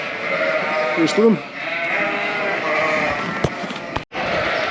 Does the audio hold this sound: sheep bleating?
yes